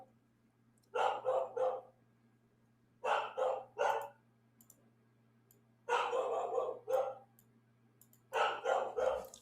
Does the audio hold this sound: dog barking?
yes